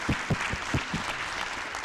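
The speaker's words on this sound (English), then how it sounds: "So if we could have just a round of applause for Danilo" An audience in a conference room at an internet governance forum claps in a short round of applause, a fairly dense burst of hand claps lasting under two seconds with no talking over it.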